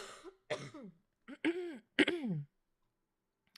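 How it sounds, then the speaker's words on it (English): A man coughs and clears his throat in several short, close bursts separated by brief pauses, then falls quiet. "And I have to do another cough break."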